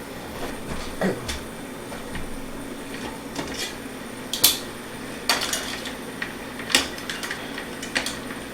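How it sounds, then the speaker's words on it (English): A mixing bowl is cleaned in a kitchen, with scattered clinks and clatters of dishes and utensils at irregular intervals, some sharp knocks standing out, and no talking. "let me go ahead and clean up my bowl over here."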